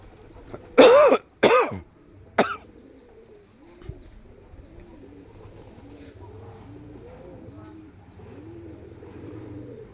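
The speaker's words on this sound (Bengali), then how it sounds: "এগুলো হলো বাড়ির কবুতর।" Pigeons coo softly in a steady, overlapping stream of low burbling calls, following a few harsh throat-clearing coughs at the start.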